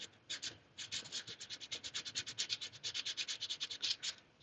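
Close, rhythmic scrubbing rasps as grime and over 50 years of oxidation are rubbed off an American Flyer Reading 630 model train caboose, with quick repeated strokes that pause briefly midway.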